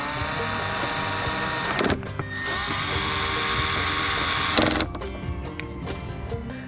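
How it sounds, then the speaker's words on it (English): Ratchet with a 10mm socket tightening bolts inside a Toyota Tacoma during an amplifier install, a steady close mechanical whirring broken by two short bursts of louder clicking, no talk. "go ahead and grab a 10mm socket and ratchet and put the 10mm back on"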